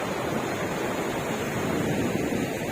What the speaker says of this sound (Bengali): এখন জোয়ার চলছে দেখুন সমুদ্রের চারপাশে